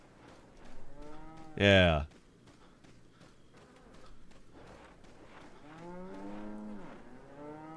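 A cow in Resident Evil 4 lets out a loud, drawn-out moo, followed later by a longer, lower lowing, with someone talking quietly in between.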